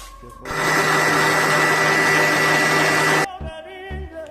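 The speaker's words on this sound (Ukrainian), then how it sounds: "збиваємо 200 грам сливок" A steady electric mixer whirs loudly for about three seconds whipping 200 grams of cream, then cuts off, followed by a few soft clinks and light handling sounds.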